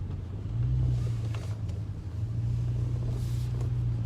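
A rear-wheel drive car creeps along an icy road in Jackson, Mississippi at about 15 miles an hour, giving a steady, close, low engine and road rumble inside the cabin with no break.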